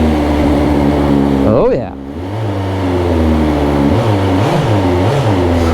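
A 2023 BMW S1000XR motorcycle engine cold-starting, with a loud, close idle that dips briefly and then picks up again with a few short revs, while someone speaks over it.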